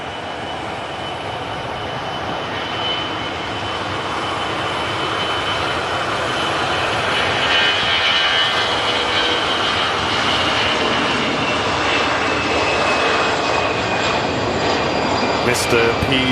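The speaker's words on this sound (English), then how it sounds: "Duck special on the Lufthansa A319, just lined up for the departure now" Lufthansa Airbus A319 jet lining up for departure at an airport, its engines giving a steady broad whine and rumble that swells slightly, with faint tonal hum, continuous and moderately distant.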